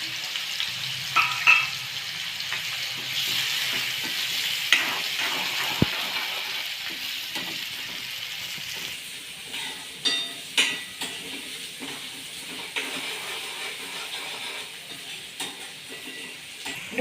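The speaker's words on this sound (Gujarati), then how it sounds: "ડુંગળીને આપણે ધીમા તાપે સાતળવાની છે." Two large finely chopped onions with garlic and asafoetida fry slowly on a low flame, making a continuous soft sizzle with scattered scraping stirs and light taps of a spoon, close by and without talk.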